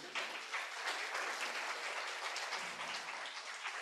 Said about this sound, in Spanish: Un aplauso para el grupo